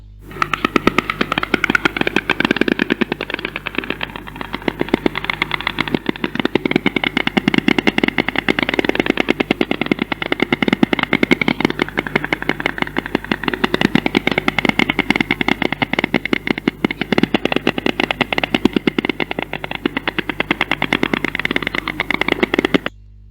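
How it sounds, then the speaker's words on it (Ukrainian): A white stork clatters its bill in a continuous dry, rapid rattle of clicks that holds steady and fairly loud for over twenty seconds. "Вірно, діти, це лелека."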